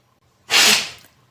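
One loud, close sneeze, a short sharp burst that fades quickly in an otherwise quiet room.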